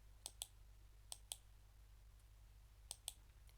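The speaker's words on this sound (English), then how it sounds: "So to select it, click control" Sharp mouse clicks used to select items in Express Animate while the control key is held, coming in three quick pairs, faint and close against a low steady hum with no voices.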